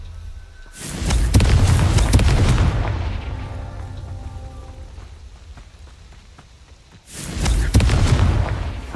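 Two heavy booming blasts from the Confringo fire spell in Hogwarts Legacy, each a loud broadband burst that rumbles and fades, separated by a few seconds of low ambient wash.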